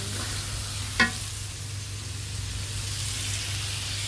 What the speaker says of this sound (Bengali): একটু মশলা কষাই নিচ্ছি।